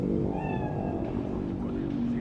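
A cat in the video game Cyberpunk 2077 gives a short, plaintive meow that rises and trails off, heard over a dense, steady game background.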